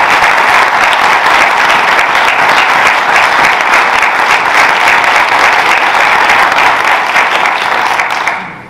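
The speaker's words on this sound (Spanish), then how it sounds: "Un aplauso, por favor, para el público." Loud, sustained applause for the audience at a religious awards ceremony, a thick unbroken wall of clapping that runs several seconds before tapering off at the end.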